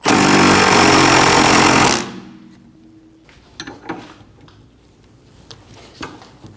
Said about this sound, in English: Using a 16mm socket, remove the nut for the sway bar link.